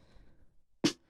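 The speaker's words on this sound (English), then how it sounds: "I actually added a high snare in the last chorus." After a near-silent moment, a single sharp, bright high snare drum sample hit cracks out and decays quickly.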